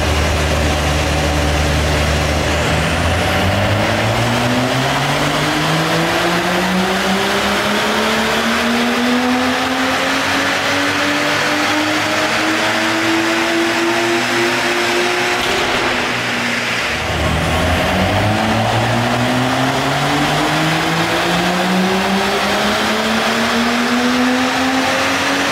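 BMW M135i engine revving hard on a dyno, loud and close, its pitch climbing steadily for a long pull, then a sharp drop and a second run climbing again.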